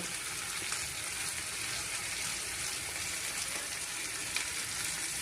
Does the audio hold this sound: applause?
no